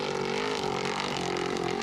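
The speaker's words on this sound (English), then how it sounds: "we were listening to Nick Eisenhower's truck" Nick Eisenhower's race truck at the 2023 Mint 400 unlimited desert race, its engine running with a continuous, tonal roar whose pitch wavers slightly up and down over a brief moment.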